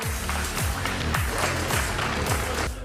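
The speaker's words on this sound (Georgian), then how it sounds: "გიორგი ელოიანს და დავით საყვარელიძეს აპლოდისმენტებით დავემშვიდობოთ გთხოვთ." Audience applause sending off two departing contestants at the close of a Georgian TV quiz show: a dense, steady wash of clapping that holds at an even level through the whole stretch, with no voices breaking through.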